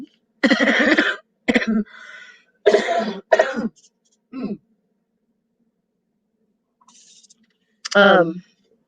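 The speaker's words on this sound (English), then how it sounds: "I haven't had a cold in like 25 years, and then I have this annoying cough" Several harsh coughs come in uneven bursts, with a throaty hack and a drawn breath between them, close and fairly loud, followed by quiet.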